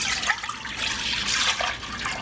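Milk pours into a saucepan in a short, continuous liquid trickle heard up close, with no voices.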